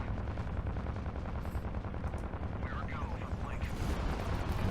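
Dense rapid gunfire and explosions from a video game, continuous and loud throughout, with a player's voice faintly under the noise.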